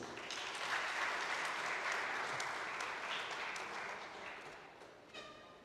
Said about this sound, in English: Resounding applause, please.